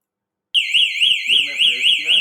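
A home security system alarm set off by pressing its SOS button: a loud, close electronic siren sweeping rapidly up and down, starting abruptly and holding continuously, with a low voice murmuring underneath.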